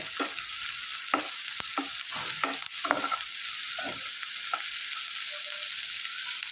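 Onions sauté in a pan for egg puttu, a loud, close, constant sizzle with a series of spoon scrapes and stirring strokes over it, no voices.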